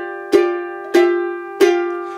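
Ukulele chords from a rag at bar 20, three strummed chords spaced about two-thirds of a second apart, each ringing clearly and up close, with no talking.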